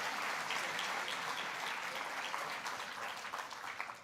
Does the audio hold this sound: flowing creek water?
no